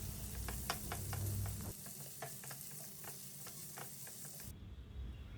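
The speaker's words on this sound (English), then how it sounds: "We'll saute the onions until they turn deep golden brown." Thinly sliced onion sautes in a pan for a vegetable curry, a soft continuous sizzle broken by repeated scrapes and clicks of a stirring utensil, fairly quiet and without voices.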